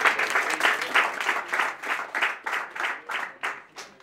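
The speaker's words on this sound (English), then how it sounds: "Can we have claps for him, please?" Small audience at a speech clapping, sparse hands giving a loose, uneven rhythm of distinct claps that pulse in waves, fairly close and not very dense.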